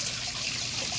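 Aerated water bubbles in a biofloc catfish tank, a steady close-up gurgling and trickling wash that runs unbroken through the moment with no voices.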